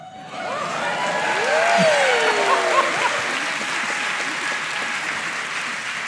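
A live audience breaks into loud, sustained applause that swells and holds steady, with a few whoops and cheers rising above the clapping.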